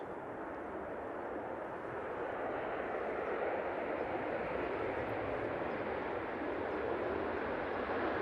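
An airliner lands on the runway at Manchester Airport, its engines a steady, broad roar that holds fairly constant and swells slightly toward the end, heard from a distance without talk.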